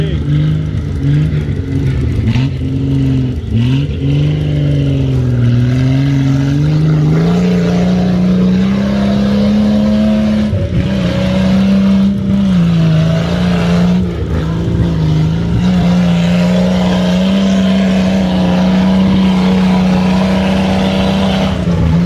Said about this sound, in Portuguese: Acelera mesmo, não tem dó não.